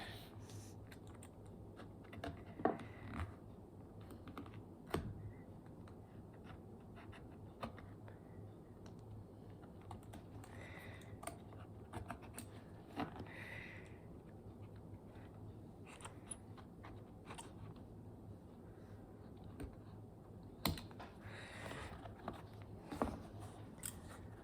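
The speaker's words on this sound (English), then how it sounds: "Now I'm just gonna cut this piece off right here." Scissors snip pieces off a leather bareback riding glove, giving sharp intermittent clicks and crunchy cuts spread across a quiet room with a steady low hum.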